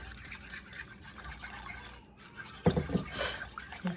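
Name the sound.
pouring chicken broth into a mixture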